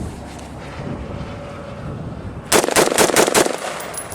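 A rifle fires five rapid shots in extreme cold, sharp loud cracks in quick succession after a stretch of wind and low background noise.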